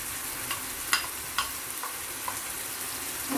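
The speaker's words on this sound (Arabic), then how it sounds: "كتشحر لينا الفلفله ديالنا مع الدجاج ومع البصله" Chopped bell peppers sauté with chicken and onion in a pan, a soft, continuous sizzle broken by several light clinks and scrapes of stirring.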